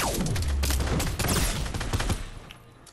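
A burst of rapid gunfire from a Fortnite match cracks out loudly in a dense volley, then tapers off and fades over the last second.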